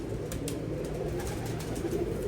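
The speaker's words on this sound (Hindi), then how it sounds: "ये इस कबूतर की नोट है।" A pigeon coos in a soft, low, repeated rumble close by, with light rustling and a few faint clicks over a steady background.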